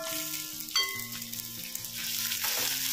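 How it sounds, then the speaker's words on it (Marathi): Finely chopped onion sautés in a pan over a medium flame with dried prawns, giving a close, steady frying hiss and a brief sharper burst of sizzling as it is stirred. "कांदा व्यवस्थित आपल्याला परतवून घ्यायचा आहे"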